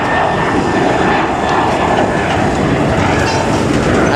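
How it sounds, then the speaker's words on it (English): An airplane taking off near the Argo Drain sub-basin water recycling facility construction site in Los Angeles gives a loud, continuous, broadband jet roar that fills the whole span without letting up. "We got a plane taking off that I can't get on camera right now."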